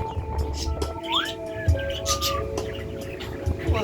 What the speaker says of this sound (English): You want to hear the little birds in stereo?